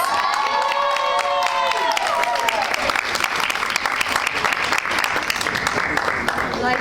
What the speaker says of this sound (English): can everyone just give a big round of applause for the other contestants?